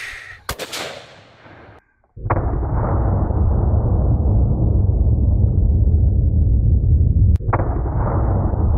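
A Smith & Wesson Model 686 revolver fires Remington .357 Magnum 125 grain jacketed hollow points into ballistic gel outdoors: a sharp, loud blast near the start, then a loud sustained rushing noise cut by another abrupt crack near the end.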